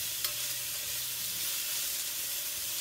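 Pork roast and onions searing in a pan before a milk braise, a constant bright hissing sizzle, close and even throughout, with one faint tap near the start.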